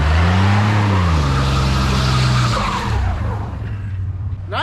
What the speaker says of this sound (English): That was a good two-wheel peel.